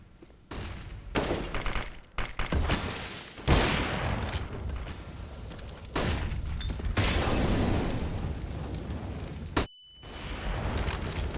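Gunfire bursts and a flashbang detonation in Counter-Strike: Global Offensive on the Train map, loud rapid shots and booms filling most of the stretch, broken by a sharp ringing tone and a brief silence near the end.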